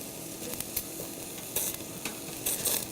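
Lamb shish kebab sizzles steadily as it cooks on skewers in a backyard setting, a soft continuous crackle with a few brighter spitting bursts, moderately quiet and with no voices.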